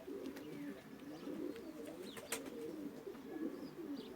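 Pigeons coo softly and continuously inside a coop, their low rolling calls layered over one another, with a few faint chirps on top.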